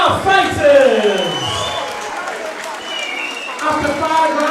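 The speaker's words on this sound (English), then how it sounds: "can we please have a big round of applause for both of our fighters?" Crowd clapping and cheering for two boxers after a hybrid boxing bout, a busy roar with whoops and shouting voices over the applause, swelling again toward the end.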